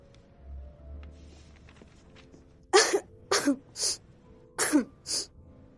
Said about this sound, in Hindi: नहीं तो मजे के लिए खांस रही हूँ